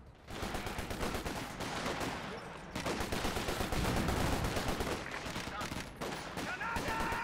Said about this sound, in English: Some more base howitzer action.